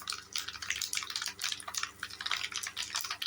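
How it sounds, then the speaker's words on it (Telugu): Mustard seeds spluttering in hot oil for mango pickle, with dense crackling pops and sizzle that continue steadily and close by, without talk. "చిట్లిపోయింది, ఆవాలు బాగా చిట్లిపోయింది."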